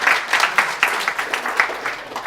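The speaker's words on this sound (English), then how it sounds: "We can clap a little bit." A small audience at a Vue.js core team summit talk gives a short round of clapping, with distinct individual claps landing in a loose, uneven rhythm, close and moderately loud.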